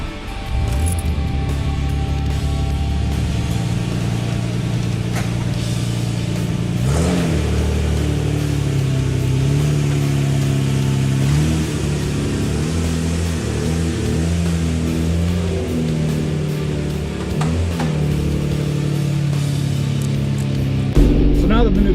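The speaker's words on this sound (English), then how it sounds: "Now let's get the engine warmed up, we'll go take it for a drive" An RB26DETT engine in a Nissan Skyline R32 GTR idles while warming up after a coil pack replacement, a steady close rumble with a few brief revs partway through and a louder swell at the end; someone talks over it.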